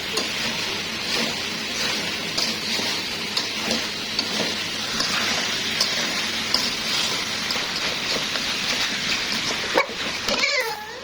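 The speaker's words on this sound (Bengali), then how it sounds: "তো এখন আমি আলুগুলো দিয়ে ভালো করে কষিয়ে নিব" Potatoes stir-fried in a pan, a continuous close sizzle under repeated scraping and stirring strokes, with a brief clatter near the end.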